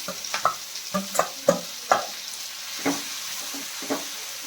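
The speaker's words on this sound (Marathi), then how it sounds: "साधारणतः आपल्याला हे 10 मिनिटं असं तुपामध्ये भाजून घ्यायचं आहे." Grated carrot being stirred and roasted in ghee in a pan for carrot halwa, with a soft sizzle under irregular scraping and tapping strokes of a spoon, close and fairly quiet.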